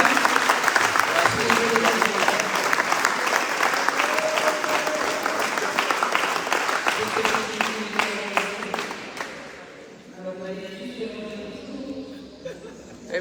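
Sustained applause from an audience at a town hall reception for the Arsenal women's handball champions, honoring a woman from the club, with light chatter and laughter mixed in before the clapping thins out near the end.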